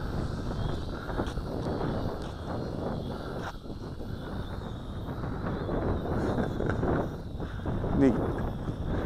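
Steady outdoor wind roars and buffets a microphone throughout as a quadcopter flies in gusty air, a broad continuous rush with slight surges and no clear pauses.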